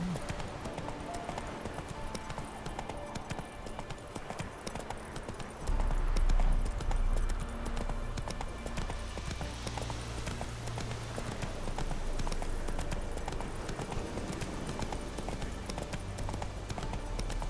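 Hooves of a galloping horse in The Witcher 3 video game beat in a fast, steady clip-clop over a bed of game ambience and music.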